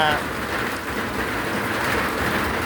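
Steady rain pours on a surface outdoors in Thailand, a dense, even hiss close by that holds for the whole stretch without pause.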